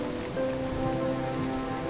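Steady rain downpour in The Silver Lining adventure game, a continuous even hiss of drops on surfaces with a faint tonal music bed underneath, no voices.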